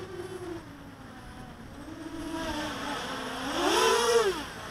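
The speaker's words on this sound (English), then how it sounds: "it's full throttle punch outs, and not what I was hoping for with 2204s and 6-inch props" Motors of an EMAX Nighthawk Pro 290 FPV drone with 2204 motors and 6-inch props whine and rise in pitch during full-throttle punch-outs, a buzzing tone that swells louder toward the end under faint background noise.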